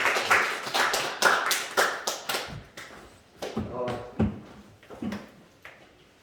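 A church Bible-study congregation claps in short bursts, irregular sharp hand claps spread over several seconds, with voices talking over the clapping partway through.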